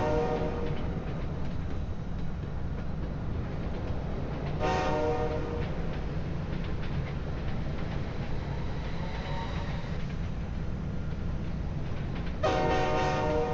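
A low, constant rumble of rolling trains in the railway simulation game Railway Empire 2, with two separate horn blasts sounding over it, one early and one near the end.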